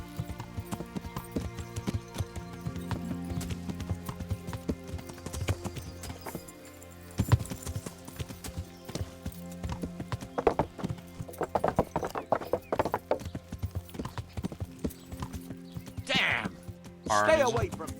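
Horse hooves clip-clop rhythmically in the medieval game Kingdom Come: Deliverance. The steady hoofbeats carry under background music, with a horse's whinny and occasional talking mixed in.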